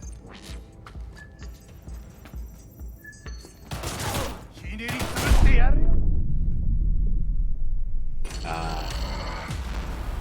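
A newly equipped gun fires rapid bursts of automatic gunfire in the video game Cyberpunk 2077, loud and close, with heavy booming impacts in the middle and a sustained volley near the end over game sounds.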